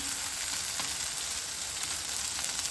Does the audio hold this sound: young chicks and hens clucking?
no